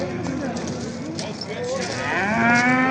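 Cows moo repeatedly at a busy Uzbek livestock bazaar, long low calls rising over a steady crowd murmur, with people talking nearby throughout.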